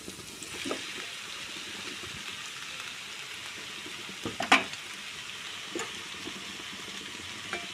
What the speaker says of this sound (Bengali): এবার এটা একটু ঢাকা দিয়ে ভাজবো। এবার আমি ভেজে রাখা আলুটা আমি এর উপরে দিয়ে দেবো।